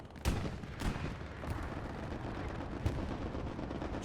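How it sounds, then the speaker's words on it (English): Bombing run and strafing explosions in a military video game, a dense barrage of distant booms and sharp blasts layered over a constant rumble, with several stronger hits standing out. "Friendly bombing run and a strafe."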